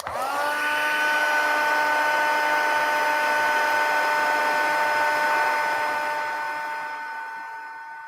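A crafting heat tool for embossing runs steadily with a loud, close whirring hum and whine that holds for several seconds, then slowly fades toward the end, with no talking over it.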